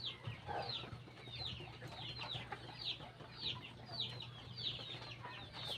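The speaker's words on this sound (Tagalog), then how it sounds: "Yung mga alaga natin mga manok dito" Several domestic chickens cluck in short repeated bursts, fairly close, over a steady low hum from the surrounding farmyard.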